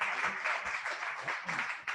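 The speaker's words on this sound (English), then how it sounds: "So give him a round of applause." Audience applause at a Kubernetes meetup in Atlanta, greeting a Cockroach Labs speaker: steady, dense clapping from a room of people, moderately near and continuous for the whole stretch.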